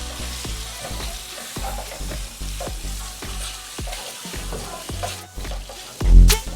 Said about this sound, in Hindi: ये चिकन ऐड करके इसको हम थोड़ा सा फ्राई कर लेंगे इसमें।